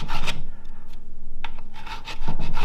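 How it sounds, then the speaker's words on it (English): A hand file rasps metal on a 2004 GMC Sierra 4L60e transmission case, loud close strokes in a steady back-and-forth rhythm with a brief pause in the middle. "take a file. We need to clean up where it bolts down"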